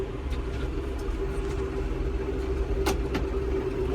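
A John Deere 5075E tractor with an AC cabin hums at a steady idle-like drone while gears are shifted, with a couple of faint clicks from the gear lever, close and continuous, no speech.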